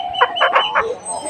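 A hen that has just come out of broodiness clucks four times in a quick run at close range, then goes quiet, with faint background noise and no speech.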